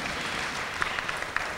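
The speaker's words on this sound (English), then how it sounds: "so we could applaud him for that" Audience applause fills a conference hall during an education working session at a 2011 university gathering: steady, dense clapping from many hands at moderate distance, with a few sharper individual claps standing out near the end.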